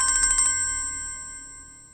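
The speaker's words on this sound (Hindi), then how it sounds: "राबी का फोन है" A phone ringtone plays a bright, repeating electronic chime in a quick pulsing rhythm, then holds a sustained tone that slowly fades. It is clear and close, with no talk over it.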